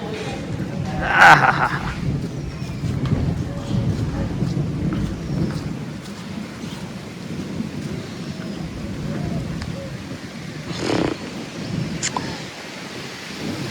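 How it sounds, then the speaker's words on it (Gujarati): Heavy rain pours down steadily with strong gusts of wind in Vadnagar, while thunder rumbles now and then beneath the downpour. "જબરજસ્ત મિત્રો વરસાદ આવે છે."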